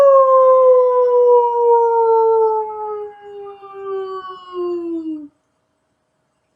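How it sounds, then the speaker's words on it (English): A single long, smooth howl that slowly falls in pitch, sounding like a wolf or dog, holds for about five seconds clear and alone before stopping into silence. "Suddenly, from very far away place, there came a howl. Then another, and another, and another."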